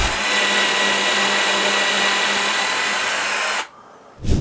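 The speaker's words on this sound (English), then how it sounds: "we're gonna drill a hole right here" A power drill drills a hole for model railroad switch wiring: a loud, steady mechanical whine runs continuously for several seconds, then cuts off abruptly, followed by a brief burst of noise.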